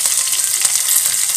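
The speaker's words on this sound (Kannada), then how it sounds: "ಒಣಮೆಣಸಿನ್ಕಾಯಿ, ಬೆಳ್ಳುಳ್ಳಿ ಮತ್ತು ಕರಿಬೇವು ಸೊಪ್ಪು ಹಾಕ್ತಾಯಿದ್ದೀನಿ, ಚೆನ್ನಾಗಿ ಸಿಡಿಸ್ತಾ ಇದ್ದೀನಿ" Dried red chillies, garlic and curry leaves spluttering in hot oil for a tempering poured over lentil-and-greens sambar, a loud, close, continuous crackling sizzle with rapid popping.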